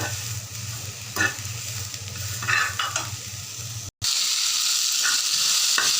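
Eggplant slices seasoned with turmeric and salt fry in hot oil with a steady close sizzle, broken by a few clinks and scrapes of stirring and one brief cutoff before the frying resumes.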